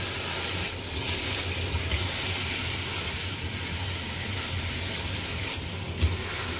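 Tap water runs while raw chicken is washed in a kitchen pot, a steady moderate rushing stream with faint handling clatter throughout.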